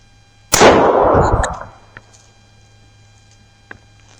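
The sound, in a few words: gunshot from a .22 long rifle gun fired at body armor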